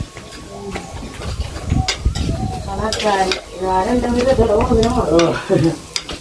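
Ingredients for a village-style crab curry with stone-ground masala sautéed in a pan: a close, continuous sizzle with stirring scrapes, and a voice talks over the middle of it.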